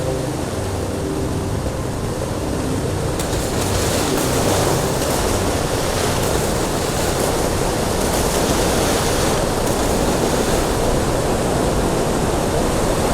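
A waterfall in the video game Star Trek Online gives off a loud, continuous rushing roar of falling water, broad and steady, swelling slightly partway through, with no voices over it.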